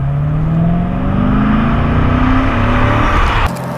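A 2016 Chevrolet Corvette Stingray drives through a turn, its engine note loud and close, pitch climbing steadily as it revs before cutting off abruptly near the end.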